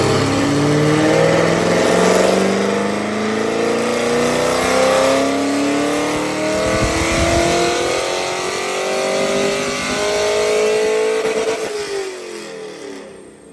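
A Corvette C5 Z06 engine on a dyno roars hard and loud, climbing steadily in pitch before bouncing off the rev limiter with a rapid stuttering cut, then dropping away.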